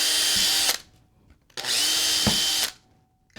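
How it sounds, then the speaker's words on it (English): Two long bursts of a power drill whining at full speed while drilling truck mounting holes in a fingerboard deck, each about a second, separated by a short pause; close and loud. "let's go ahead and drill the truck mounting holes"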